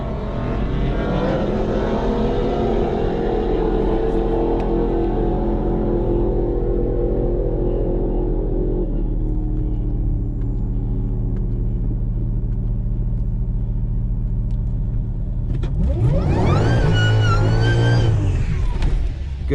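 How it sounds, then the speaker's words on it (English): A Mercedes E55 AMG doing a burnout at a drag strip, engine roaring loud and steady for a long stretch, then revving higher with a harsh rising whine near the end. "Good burnout."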